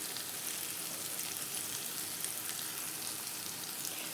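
Onion frying in oil with salt in a pan, a steady, even sizzle that stays dense and unbroken throughout, heard close with no talking.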